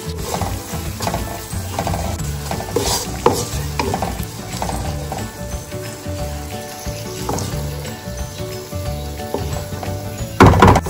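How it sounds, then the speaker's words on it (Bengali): Small fish fry in hot oil seasoned with salt and turmeric, giving a steady, fairly loud sizzle with scattered clinks and scraping from stirring, plus a sharper burst near the end. "মাছগুলোকে আলাদা করে ভেজে নেব নুন হলুদ দিয়ে।"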